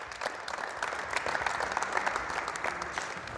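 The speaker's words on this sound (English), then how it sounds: "Everyone give them a round of applause." Audience clapping for participants after a three-on-three basketball game demonstration, a short, steady round of applause at moderate volume, close and continuous throughout.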